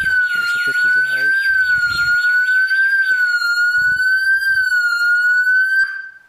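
An Ajax StreetSiren alarm siren keeps wailing loud and close after a jammer is switched off. Its shrill tone warbles rapidly, then settles into a steady high pitch before cutting off.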